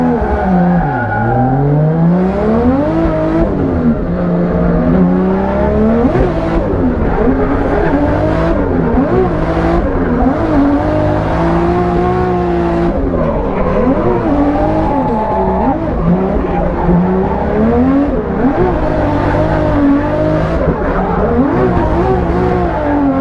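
A turbocharged BMW E36 race car on a drag strip, its engine revving loudly and continuously, pitch sweeping up and down through repeated gear changes and throttle blips, with tyre noise mixed in and no talk.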